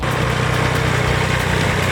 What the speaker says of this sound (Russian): Идет трактор.